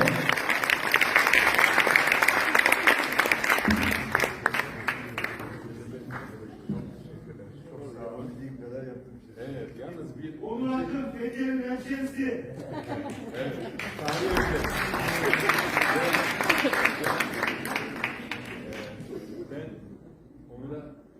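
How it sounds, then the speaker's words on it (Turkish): Applause and cheers from a concert audience at an outdoor show in Fethiye swell loudly, fade under someone speaking, then rise again in a second burst of clapping. "Çok güzel alkışlar"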